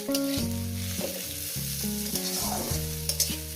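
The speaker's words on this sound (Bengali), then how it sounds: "কাঁচা মরিচটা দিয়ে দিলাম এটাকে আমি পেঁয়াজের সঙ্গে ভেজে নেব" Green chilies frying with onions and salt in a pan for a spiced eggplant fry, a steady close sizzle running beneath a melodic music bed, with no talking.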